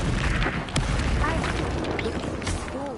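A Bombarda spell explodes in the video game Hogwarts Legacy, a loud booming blast that carries through a busy, dense mix of sound with voices talking.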